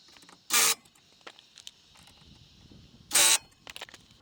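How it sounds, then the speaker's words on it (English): A pneumatic impact wrench tightens the rear brake caliper bolts on a 2012–2013 Kia Soul in two short, loud bursts a few seconds apart, with quiet garage clatter between them. "we'll just get these tightened up again just with the impact"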